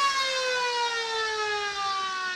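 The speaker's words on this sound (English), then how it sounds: "As the siren sounds to announce half-time out here" A siren sounds half-time at a local Australian rules football match between East Ringwood and North Ringwood, a single loud, steady, sustained tone that holds unbroken throughout.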